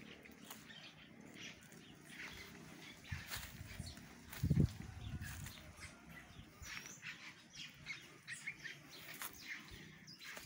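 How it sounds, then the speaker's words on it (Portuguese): Birds chirp and sing outdoors in a garden, scattered light tweets spread across the clip at a moderate distance, with a soft thump near the middle. "A alegria dos pássaros"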